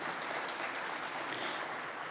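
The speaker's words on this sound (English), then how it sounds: "Yes, a round of applause, please." Applause from an audience at a global citizen event in Johannesburg, a steady dense wash of clapping that carries evenly through the clip without pause.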